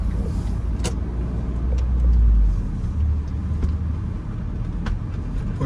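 A car drives through residential streets of the Mayfair neighborhood of Philadelphia, giving a steady low engine and road rumble that swells briefly, with faint clicks and bumps from inside the cabin.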